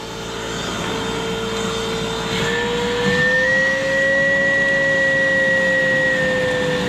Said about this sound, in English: Down in there, you need to vacuum out.